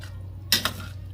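A spoon scrapes and clanks twice against a pot as food is stirred, two quick close metallic knocks over a steady low kitchen hum.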